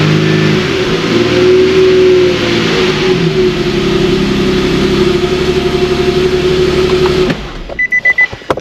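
A GMC truck engine with freshly replaced coil packs revs up strongly and holds a loud, steady mid-pitched drone, then cuts off abruptly near the end, leaving a few faint clicks and knocks.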